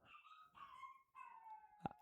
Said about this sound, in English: I don't know why my dogs were barking like that.